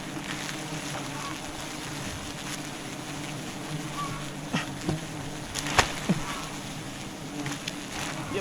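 Wasps swarm around their nest outdoors, a constant close buzzing drone broken by a few sharp clicks and knocks, with faint voices in the background.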